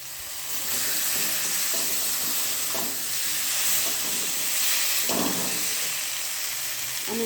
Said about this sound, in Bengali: আমি এবার আলু আর মশলাটা একসাথে কষতে দিলাম।